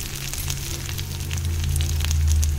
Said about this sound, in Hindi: देसी घी में सब्जियाँ बना रही हूँ